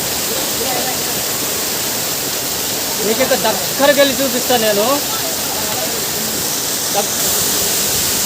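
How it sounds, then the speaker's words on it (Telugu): A waterfall rushing between rocks in a forested agency area of Andhra Pradesh, India, producing a constant loud roar, with someone talking over it for a couple of seconds midway. "ఆ వాటర్ ఫాల్ దగ్గరకు వచ్చాను"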